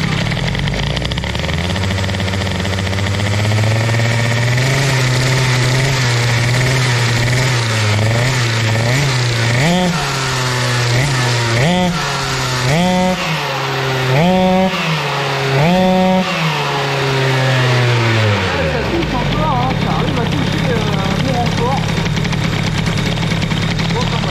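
A boosted Airsal XT 77 moped engine with a wide reed intake revs up in a run of sharp rising blips, carburettor response audible in each rev, loud and close before settling back to idle.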